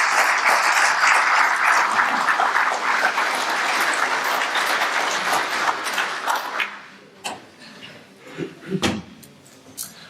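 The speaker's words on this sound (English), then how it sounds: "big round of applause for Ian" An audience at a British Constitution Group conference applauds a speaker, dense clapping for about seven seconds that then thins to scattered claps, thumps and shuffles.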